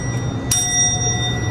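A counter bell at a beach resort counter in El Nido gives a single bright ding that rings on and slowly fades over a low room hum.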